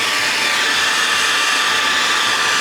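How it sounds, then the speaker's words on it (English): A hair dryer blows steadily at close range, drying paint on a basketball planter, a continuous even broadband whoosh with no voices. "get a hair dryer or the drying stuff"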